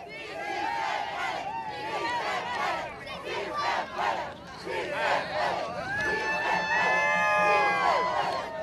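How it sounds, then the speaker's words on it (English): Crowd of immigration demonstrators marching in Los Angeles, a dense roar of many voices shouting and chanting continuously at close range, with a whistle or high cry rising near the end. "The crowd behind me, the crowd in front of me still marching."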